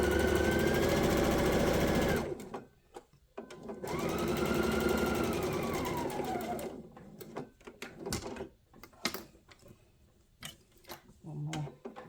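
A sewing machine stitches around the edge of a fabric book wrap, two loud runs of rapid motor whir and needle clatter, then quieter clicks and handling noises.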